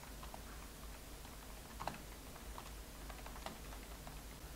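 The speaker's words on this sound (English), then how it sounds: "Here's the mic test with a normal membrane keyboard as well." Soft, muffled key taps on a keyboard, scattered and irregular, quieter and duller than mechanical clicks, with no voices.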